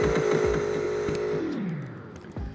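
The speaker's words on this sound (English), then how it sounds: "Alright, here are the revs." A Koenigsegg Regera in Greenville, Wisconsin revs its engine: a loud, sustained, tonal roar holds, then falls in pitch as the revs drop off.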